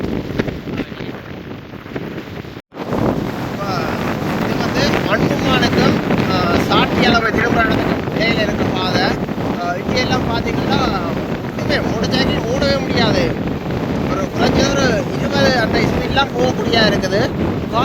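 Strong cyclone wind blowing during a storm over Jaffna, a loud constant roaring buffet on the microphone with gusty surges, briefly cut out near the start, with voices faintly beneath.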